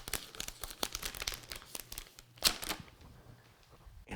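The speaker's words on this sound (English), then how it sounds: "Let's grab some scissors and free the motherboard from its" Plastic anti-static bag around a new motherboard being handled and cut open during a gaming PC build, giving a run of close, dry crinkling and crackling bursts with one sharper snip-like crunch, no talking.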